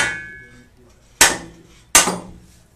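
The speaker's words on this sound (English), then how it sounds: "Yep, hammer on it." Two sharp hammer blows strike metal in a tool repair workshop, each a loud ringing clank that decays quickly, spaced under a second apart after a quiet start.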